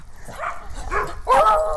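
A small dog yips and barks indoors, a few short high-pitched barks and whimpery cries close by, with people talking nearby.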